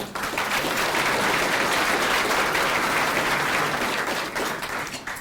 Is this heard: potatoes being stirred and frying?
no